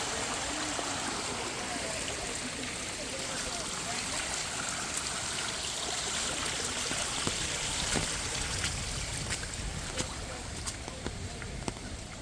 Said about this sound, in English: Bubbling in the middle.